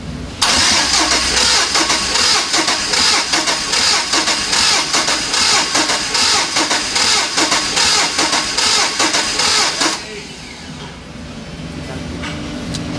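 A turbocharged 5.3 LS truck engine cranks during a compression test, giving a loud, fast, steady rhythmic chugging for about ten seconds before it cuts off, leaving a quieter background hum.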